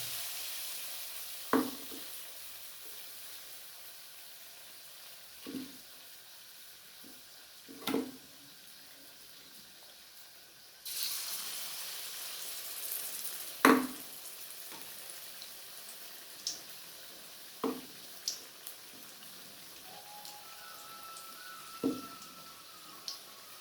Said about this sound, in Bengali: নিয়ে আমি তেলের মধ্যে দিয়ে দেবো